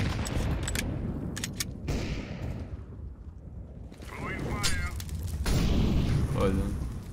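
Gunfire through a wall in CS:GO comes as bursts of sharp shots, loud clusters at the start and again near the end, separated by a quieter stretch, with speech mixed in.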